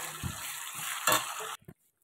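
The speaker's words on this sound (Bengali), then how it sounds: "পনির ভাজা তেলের মধ্যে আমি তেজপাতা, গোটা জিরে আর গোটা গরম মশলা ফোড়ন দিয়ে নিলাম।" Whole spices, bay leaf and cumin seeds sizzling in hot oil left from frying paneer, a loud steady crackle with a few stirring knocks before it cuts off abruptly.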